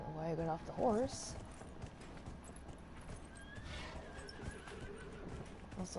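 A horse whinnies loudly near the start in Dragon Age: Inquisition, followed by hoofbeats and low rumbling ambience; a faint voice is briefly audible underneath.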